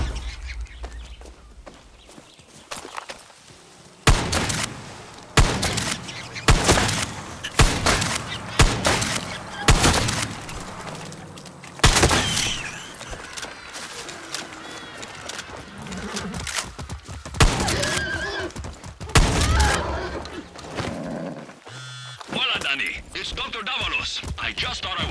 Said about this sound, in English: Is that gunfire? Yes! Yes, it is!